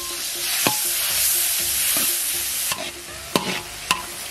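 Lard, red pickled chilies and minced garlic are stir-fried in a wok for a large fish-head dish, with a steady loud sizzle and a few sharp spatula scrapes against the metal.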